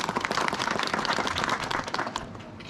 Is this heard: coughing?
no